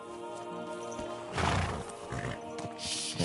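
Horse whinnying with hoofbeats in the video game Kingdom Come: Deliverance 2, a loud neigh swelling midway over a steady game backdrop, with a few scattered thumps and a brighter burst at the end.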